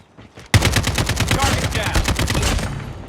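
An AK-47 fires in Call of Duty Mobile: a loud opening shot leads straight into a rapid, steady full-auto burst of about two and a half seconds that trails off, with no voices.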